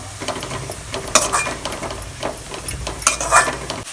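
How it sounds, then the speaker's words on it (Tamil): Curry leaves being sautéed in a pan while making radish chutney: a lively sizzle with repeated clinking, scraping stirs of a utensil, busier bursts around the middle and end, close and without speech. "கருவேப்பிலை கொஞ்சம் போட்டுக்கலாம் போட்டு நல்லா வதக்கிடுவோம்"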